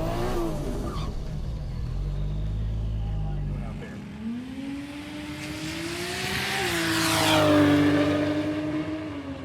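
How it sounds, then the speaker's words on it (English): A Toyota 2JZ engine at a drag racing event revs and climbs in pitch, rising to a loud peak and then settling back, with a low rumble at the start and voices faintly underneath. "what certainly sounds like a Toyota 2JZ"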